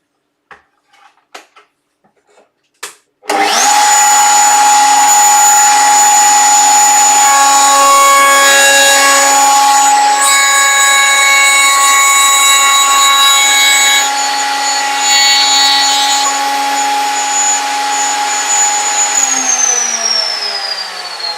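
A router bit cutting into wood for a sandpaper caddy runs loud and steady for about eighteen seconds after a few brief knocks, holding a constant whine before spinning down at the end.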